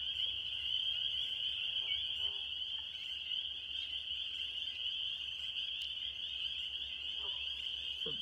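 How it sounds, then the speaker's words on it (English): Dense chorus of frogs calling steadily from a swamp on the South Trails at Beaver Creek, a continuous shrill trill with a few faint croaks nearby. "we are live at the swamp on the South Trails at Beaver Creek listening to frogs"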